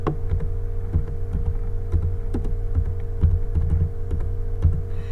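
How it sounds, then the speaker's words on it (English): Someone types a name on a computer keyboard in Microsoft Word, with irregular soft key clicks over a constant electrical hum. "I'm going to type my name."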